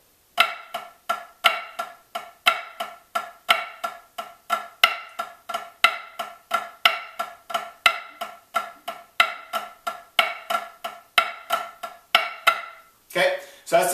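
A snare drum runs through the full four section of a flam accent grid, a long unbroken stream of sharp, evenly spaced flam and tap strokes, close and bright, followed by a short burst of speech at the very end.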